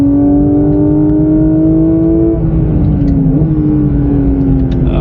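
Porsche 992 GT3 engine heard from on board on a track in Dubai, loud and steady as it accelerates, its rising tone climbing through the gears with a brief dip at a shift, no talking.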